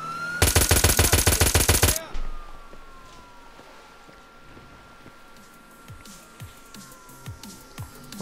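Rapid burst of automatic gunfire in GTA San Andreas, loud and close for about a second and a half, then a fading echo over quiet game ambience with faint scattered thuds.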